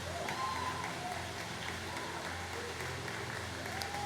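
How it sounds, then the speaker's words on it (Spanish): A congregation gives a steady burst of applause during a Spanish-language church service, a dense, continuous wash of clapping that holds an even level throughout, with faint voices and shouts mixed into the crowd noise. "Dele ese aplauso al Señor."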